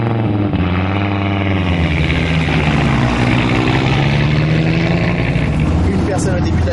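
Walter Röhrl's car climbing the Col de Turini mountain road, its engine note droning loud and steady throughout with rising and shifting pitch, speech faintly mixed in.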